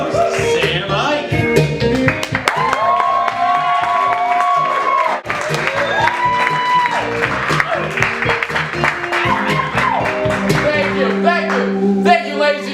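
A studio audience applauds and cheers for the host at a live comedy show with a keytar musical guest, steady loud clapping and whoops filling the whole stretch while music plays underneath.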